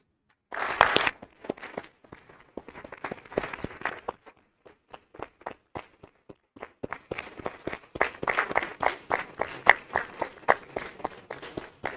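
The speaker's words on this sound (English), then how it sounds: "Let's give them another big round of applause." Scattered hand claps build into a steady round of applause from a small crowd at a governing board meeting, sharp and close, with a brief lull partway through.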